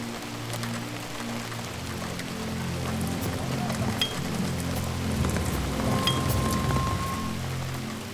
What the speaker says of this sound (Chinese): 雨水大量灌入泥坑，